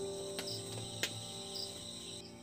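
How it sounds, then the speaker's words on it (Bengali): Crickets chirp steadily in a quiet setting, a faint continuous trill with a few sharp clicks and brief brighter tones standing out, no voices. "দেখুন ঝিঝি করে একটা জিনিস ডাকে"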